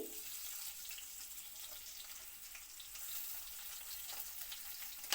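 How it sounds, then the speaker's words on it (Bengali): Chopped onions sizzle steadily in hot oil in a wok, a continuous bright crackling hiss at close range with no pauses. "এবার দিয়ে দিলাম পেঁয়াজ কুচি"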